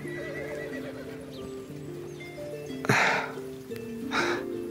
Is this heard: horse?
yes